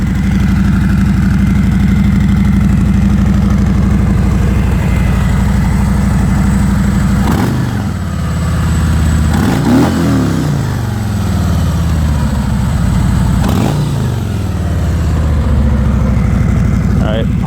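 Harley-Davidson Milwaukee 8 V-twin with stock mufflers and a Screaming Eagle air cleaner idles with a steady, loud, lumpy rumble, broken by three short throttle blips around the middle of the run.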